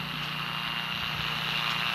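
Aircraft engine drone from an airplane flown in a flight video game, a steady loud propeller-like hum with a constant tone throughout and no voices.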